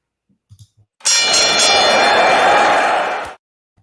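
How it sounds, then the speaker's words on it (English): A single bell strikes loudly and close, ringing with a bright metallic tone that sustains for about two seconds before being cut off abruptly, preceded by a few faint handling taps. "I'm going to ring that bell"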